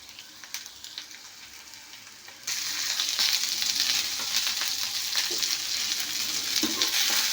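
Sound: bitter gourd and curry leaves frying in pan

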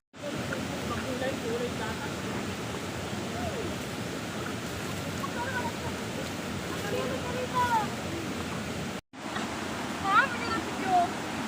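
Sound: strong creek water flowing

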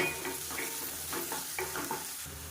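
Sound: onions sautéing in a pan for chicken dish

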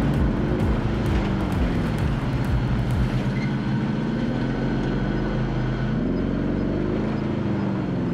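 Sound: UAV recon aircraft flying overhead in Call of Duty Warzone video game

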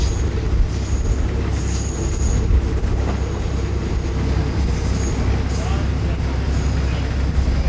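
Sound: Feeder train running from Phra Chom Klao to Lat Krabang

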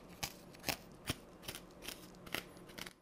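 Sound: scraping the inside of a pumpkin with a scraping tool

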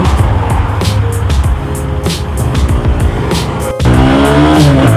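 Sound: GPX GR200R motorcycle riding, shifting into second gear

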